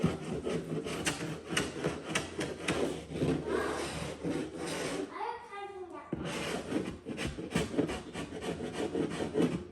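A sharp chisel scrapes old material off wooden baseboard trim in steady, rasping strokes that run almost continuously, close and fairly loud, with a short break in the middle.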